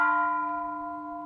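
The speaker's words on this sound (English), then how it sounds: "There's a sort of a specific Buddhist bell tone." A single Buddhist bell tone rings out clear and sustained, its pure overtones slowly fading as it decays.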